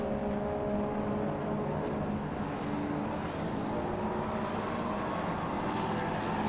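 Touring cars racing at Silverstone, a Jaguar XJ12 among them alongside a Honda Civic, a continuous loud engine roar with steady drone and faint changes in pitch.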